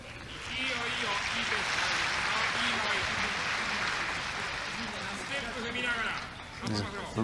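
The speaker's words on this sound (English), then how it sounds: "There's a ripple of applause around the crowd for Muraol finishing out on top there" A ripple of applause from the crowd at a judo Grand Slam final in Tokyo, a steady broad wash of clapping under continuous commentary, fading near the end.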